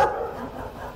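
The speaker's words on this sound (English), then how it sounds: "Goddamn dog!" A dog barks sharply in a horror video game: one loud, close bark at the start trailing into a low growling tail, heard alone without talk.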